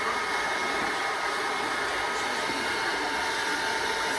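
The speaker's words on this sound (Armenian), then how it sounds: "Մարդը օգնում մազերս չորացնել" Hair dryer drying someone's hair, blowing as a steady, loud, unbroken airy roar close by with no pauses.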